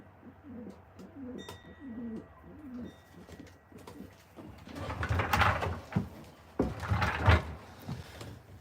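Pigeons coo inside a pigeon loft, soft repeated throaty calls at first, then louder fluttering and shuffling of birds moving about nearby, with faint knocks.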